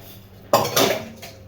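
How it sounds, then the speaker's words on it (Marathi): Two quick clattering knocks of dishes and utensils against each other close by during dishwashing, followed by a fainter clink. "पटपट पटपट भांडी उरकायचा कार्यक्रम सुरू आहे"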